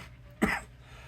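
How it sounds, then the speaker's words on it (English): A single sharp cough from a person getting over a cold, close and loud against a quiet background, lasting about a fifth of a second. "Excuse me, random cough from nowhere."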